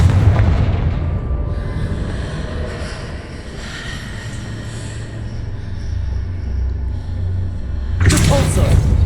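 A Confringo blasting spell goes off in the Hogwarts Legacy video game, a heavy booming blast that rumbles and fades, then a second burst near the end.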